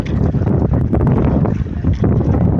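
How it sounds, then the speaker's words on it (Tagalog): Strong wind at sea buffets the microphone on a fishing trip in a continuous loud roar, with a churning rush like open water underneath. "Grabe ang lakas ng hangin"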